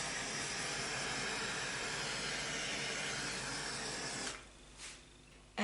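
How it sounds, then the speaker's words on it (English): A handheld torch flame roars with a broad, steady hiss over wet acrylic pour paint in turquoise, violet and gold, cutting off abruptly near the end, followed by brief faint puffs and a closing bump. "Give it a torch."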